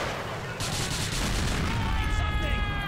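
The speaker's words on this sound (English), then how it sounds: "Let's get a rocket launcher." A rocket launcher fires in the video game GTA IV, giving loud, continuous blasts and booming rumble close up, with a voice coming in toward the end.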